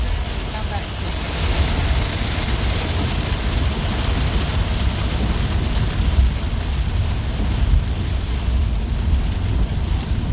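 Steady rain pattering on a van, a dense continuous hiss with a low rumble underneath, close and fairly loud for the whole stretch with no clear breaks.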